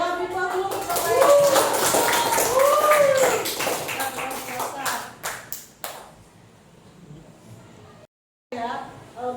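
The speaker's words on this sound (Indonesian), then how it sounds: "beri aplaus dulu untuk Pak Del" A classroom of students claps together, a dense burst of handclaps mixed with voices that thins into scattered final claps and fades, followed by a short silence and a few more taps.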